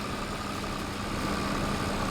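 An unfiltered diesel tractor engine with no particulate filter idles steadily in a farming video game, a continuous low rumble with a constant hum that holds level and close for the whole stretch.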